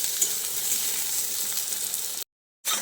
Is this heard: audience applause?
no